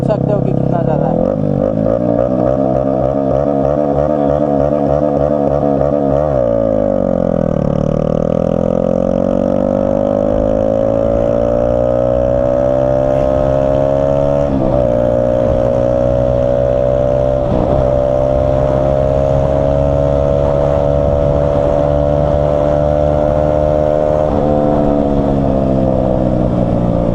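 A modified Yamaha R15 V3 motorcycle with an aftermarket exhaust roars loudly up close, its engine note rising and falling through repeated revs and gear changes, with someone talking over it.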